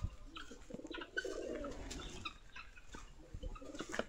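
Pigeons coo softly near a pigeon house, a few low throaty coos and bird calls over quiet background rustling and small knocks, fairly faint and intermittent.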